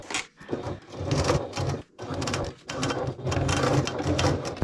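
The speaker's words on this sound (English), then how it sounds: "We're going to sew across from one end to the other." Sewing machine stitching a seam across a backpack side connector, a steady close whirring run in three bursts separated by brief pauses.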